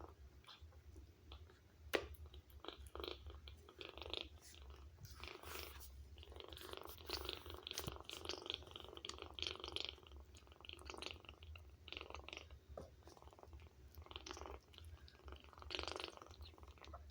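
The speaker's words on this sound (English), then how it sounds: "She purrs the whole time she eats it." A cat purrs steadily and continuously while chewing and crunching food close to the microphone, a low rumbling purr running under irregular wet bites throughout.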